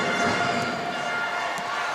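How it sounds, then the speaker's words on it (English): A loud basketball arena crowd at a President's Cup finals game roars with a continuous, even wash of cheering, heard close and filling the space without pause. "This Caloocan crowd has been loud"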